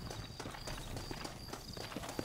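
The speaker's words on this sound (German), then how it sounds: "Looks like Carlos left us some horses." Horse hooves clip-clop quickly in Red Dead Redemption, a dense run of close, fairly loud hoofbeats over constant game background noise.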